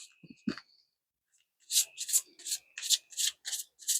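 A tarot deck is shuffled in a run of about eight crisp, evenly spaced riffling bursts of card noise, close and fairly loud, after a few brief rustles and a pause.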